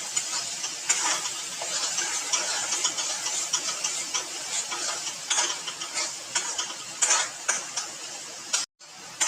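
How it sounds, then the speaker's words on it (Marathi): Spice masala for Khandesh-style spicy shev bhaji is sautéed in a pan, with close, continuous scraping and rattling stirring strokes over a soft sizzle, briefly cutting out near the end. "सगळा मसाला याच्यात टाकून घेतलाय. छान परतून घ्यायचा आहे."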